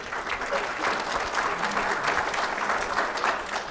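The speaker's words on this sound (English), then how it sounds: "don't ever step on applause" Steady, dense applause from a large audience at a legislative discussion event, following remarks by a legislator; the clapping holds evenly throughout with no talk over it.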